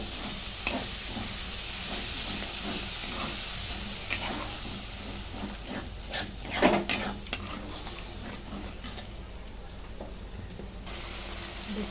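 Spinach paste stirred into spiced oil in a pan for palak paneer, a close steady sizzle with repeated spoon scrapes and metallic clinks against the pan, with no talking.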